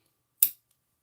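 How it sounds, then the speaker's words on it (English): Sharp sewing scissors give a single quick, crisp snip or slide against fabric near a zipper, close and clear in an otherwise silent room. "I'm just sliding my sharp part of my scissor there."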